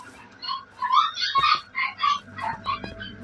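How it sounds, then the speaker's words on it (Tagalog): A dog barks noisily in a series of sharp, rapid yaps, close and fairly loud, with short pauses between bursts. "Ang ingay ng aso."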